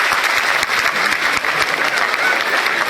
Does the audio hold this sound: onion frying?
no